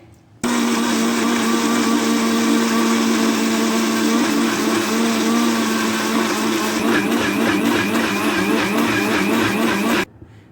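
A kitchen blender whirs loudly and steadily, pureeing Oreo biscuits with milk into a paste, a continuous motor drone running unbroken for about ten seconds with a slight shift in tone near the end.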